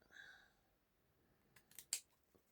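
A few short, crisp snips of scissors cutting paper come close and quiet, following a faint voice, in an otherwise hushed room.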